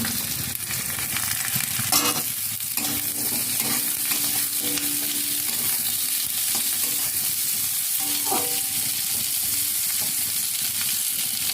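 Potatoes and onions fry in a pan of hot oil for a curry of fish with tender banana stem, a steady close sizzle running throughout with occasional stirring scrapes and clinks.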